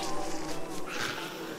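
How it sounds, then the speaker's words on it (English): Bees in Don't Starve Together buzz close by in a dense, wavering drone that swells and fades in quick pulses over the short stretch. "I'm letting you know there are bees."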